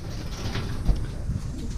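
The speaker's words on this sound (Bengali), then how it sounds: "এগুলো আমার কবুতরের ফার্ম, এগুলা আর কি কবুতর এখানে খাবার খায় আর কি" Pigeons coo softly at a pigeon farm, a faint low murmur over quiet background in a brief moment.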